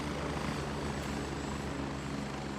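A helicopter in the video game Gray Zone Warfare gives a steady, moderately distant rotor drone that holds evenly throughout with no talk.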